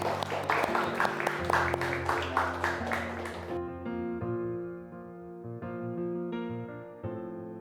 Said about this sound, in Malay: kita berikan tepukan. Danish, terima kasih Danish